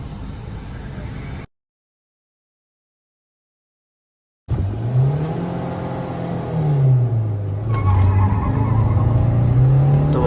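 A new diesel Swift and an old petrol Swift accelerate side by side in a drag race, engines droning loud and close with rising and falling pitch through gear changes, after a brief silent gap.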